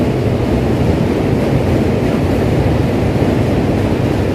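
Subway trains rumble across the Manhattan Bridge right beside the pedestrian walkway in New York City, a loud, steady, low roar with no breaks or voices.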